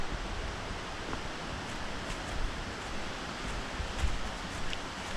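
A waterfall heard from a woodland hiking trail in New York makes a faint, steady broadband rush in the distance, unbroken and with no talking.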